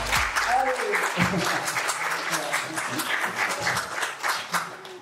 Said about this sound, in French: On va applaudir l'association qui montre ça, c'est important.